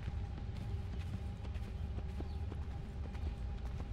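Steady clip-clop of horse hooves in the video game Assassin's Creed III over a constant low rumble, with periodic sharp clicks in a regular trotting rhythm, fairly close.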